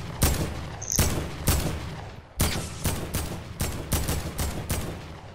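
Gunfire in the video game Fortnite: rapid, sharp shots crack out in uneven bursts of about a dozen reports, loud and close, with no talking.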